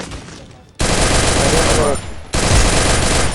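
Gunfire in a mobile shooter game during a championship match played on an iPhone XR: loud, dense bursts of automatic fire, one long volley, a short lull, then another sustained burst.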